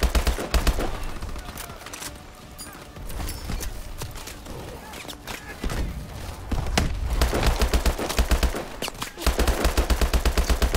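Bursts of rapid gunfire and explosive bangs from the video game Call of Duty: Advanced Warfare come in waves, loud and close, with stretches of lighter shooting between them.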